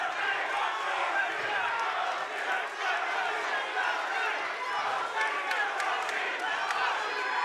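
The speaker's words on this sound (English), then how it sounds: "The chant going around ringside." Ringside crowd at a professional boxing main event roars and chants for Josh Richards, a loud, steady mass of voices with no pauses, dense and close across the whole stretch.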